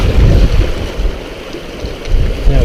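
Ocean waves surge and break loudly on a rocky shore up close, a heavy rushing wash with wind buffeting the microphone and no voices.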